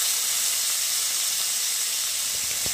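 Val bean pods with coriander powder, masala, turmeric and salt sauté in a pan, a loud, steady, steamy hiss and sizzle throughout, with a couple of soft clinks near the end.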